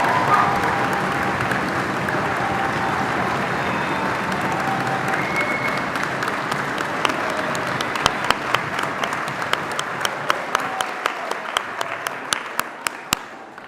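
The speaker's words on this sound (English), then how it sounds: "as we all give everyone in this room a massive round of applause" A graduation ceremony audience gives a sustained round of applause, a dense wash of clapping that thins toward the end into a few louder, distinct claps close by.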